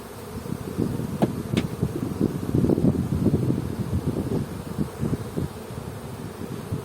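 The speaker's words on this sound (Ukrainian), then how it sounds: "Величезний рій" A huge swarm of bees buzzes around a hive, a dense continuous hum of many wings close by, rising and falling in loudness with light wind noise mixed in.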